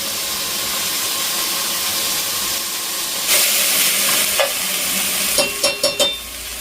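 Vegetables sizzle steadily in a hot pan with salt and turmeric, steam hissing throughout, then a few sharp scraping taps of a spoon stirring near the end; no talking.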